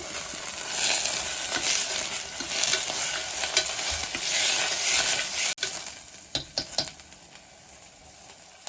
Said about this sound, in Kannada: ಮತ್ತೆ ಆಲೂಗಡ್ಡೆ ಹಾಕೊಳ್ಳೋಣ.